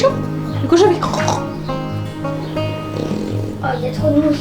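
A human voice mimics a pig's grunting in a pioneer-era village setting, with rough gargled grunts between bits of French speech, close and fairly loud.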